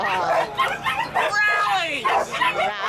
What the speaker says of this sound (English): Another beautiful Labrador rescue dog.